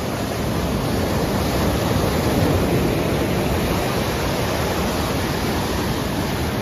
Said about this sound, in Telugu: ఇగో వాటర్ ఫాల్స్ అయితే ఇది